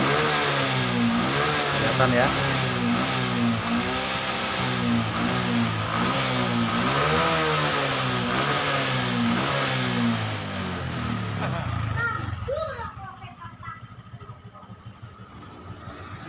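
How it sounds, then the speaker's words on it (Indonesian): A Honda Supra 125 motorcycle engine, with a worn piston or valve seal making white exhaust smoke, revs repeatedly in a rising and falling rhythm, close and loud, then drops to a quieter idle while a voice speaks briefly. "Kedengaran mesinnya tidak terlalu kasar, tapi dari knalpot ini berasap putih kalau digas ya."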